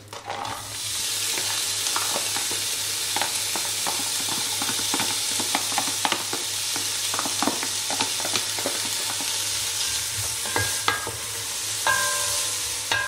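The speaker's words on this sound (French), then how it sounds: "faire revenir donc nos oignons dans une grande cocotte" Chopped onions sauté in melted butter in a large casserole, giving a dense, steady sizzle close by with scattered light stirring clicks and scrapes throughout. No one speaks.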